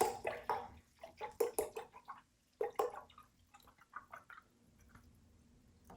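Organic chicken stock poured from a carton into a measuring cup, a bursty splashing trickle in uneven surges that tapers into quieter dribbles, close by with no talking.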